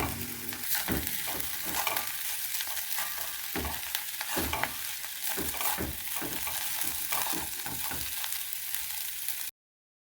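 Chickpeas frying in oil while being stirred, a continuous crackling sizzle with repeated scraping stirs at an uneven rhythm, fairly quiet and close, cutting off abruptly near the end.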